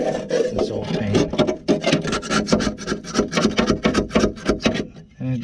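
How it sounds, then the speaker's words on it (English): A razor-blade scraper grinding steadily against old paint on a class B van being stripped of rust, close and loud, with rapid rhythmic back-and-forth strokes and no talking. "I also got this scraper, put a new razor blade in it"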